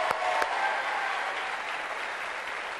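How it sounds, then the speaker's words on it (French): A studio audience applauds steadily on a television variety show, dense clapping that stays loud and then eases off slightly, with a couple of sharp claps at the start. "Applaudissements pour elle, car elle a une très belle voix."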